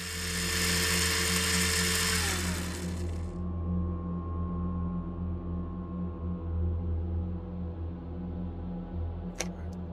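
A grinder in a horror video game whirs loudly and bright for about three seconds, then cuts off, leaving a low droning hum and a faint tonal ring, with a sharp click near the end.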